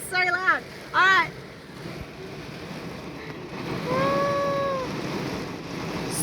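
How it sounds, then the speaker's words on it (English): Heavy rain pours down in Australia as a steady, loud, broadband hiss, with a person's voice briefly speaking over it near the start and a high tonal whine in the background midway. "Look how much rain I'm getting, guys."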